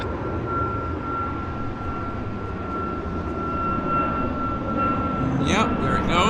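An airliner's engines roar steadily as it takes off at Vancouver Airport, a sustained loud rumble that builds gradually, with a voice briefly heard near the end.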